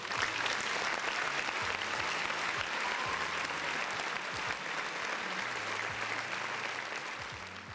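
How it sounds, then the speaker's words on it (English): Sustained applause from a crowd, steady and fairly loud throughout, gradually easing off near the end. "another round of applause for the folks in the chat."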